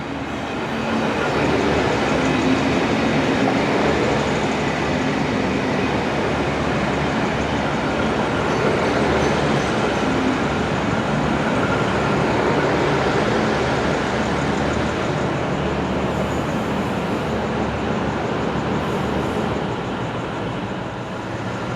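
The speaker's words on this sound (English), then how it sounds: "Here comes a country train there" A country train rumbles through Footscray station, a loud, steady roar of wheels and engine lasting the whole stretch, close by, with no talking.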